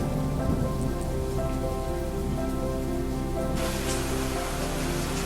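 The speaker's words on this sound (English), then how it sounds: "suddenly it was stormy and rainy" Heavy rain pours down steadily during a sudden storm, a loud continuous wash that grows brighter and harsher near the end, with no voices over it.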